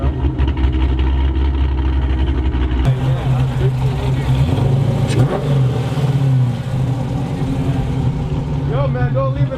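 A Chrysler 300 Hellcat with American Racing long tube headers rumbles loudly, a deep rev at the start settling into a throaty, lumpy idle that stays close and prominent throughout.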